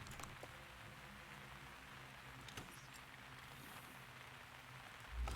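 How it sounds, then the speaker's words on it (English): Rain falls steadily in the video game Myst Online: Uru Live, a soft, even wash of patter that holds at a constant low level with no talk, plus a brief louder bump at the very end. "It now be raining."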